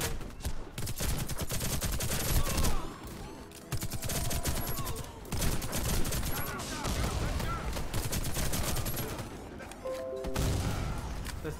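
Video game gunfire with friendly fire, dense bursts of rapid shots and crashes with short pauses, loud and busy, mixed with game sounds and some talking.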